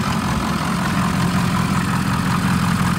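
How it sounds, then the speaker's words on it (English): The engine of a 2006 Ford E-450 20-passenger bus idles smoothly without a break, a low, even rumble with a constant hum, close and fairly loud. "Motor sounds good, it idles smooth, it revs up nice."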